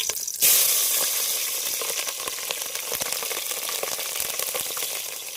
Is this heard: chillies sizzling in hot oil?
yes